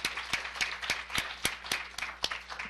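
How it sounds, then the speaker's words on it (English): Audience applause at a public poetry program: a steady crowd of clapping hands with a few sharper individual claps standing out at a fairly regular pace, heard at a moderate distance without talk. "So let's give him his own round of applause."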